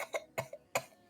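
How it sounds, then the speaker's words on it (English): A person in a coughing fit gives three or four short, sharp coughs close to the microphone, spaced unevenly over about a second. "I'm in a coughing fit."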